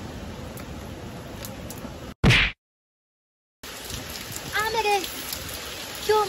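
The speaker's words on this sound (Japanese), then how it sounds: "今日も雨です" Steady outdoor rain hisses on surfaces around an autumn goldfish-keeping setup, broken by a brief loud knock and a short silent gap, with bird calls chirping faintly over the downpour near the end.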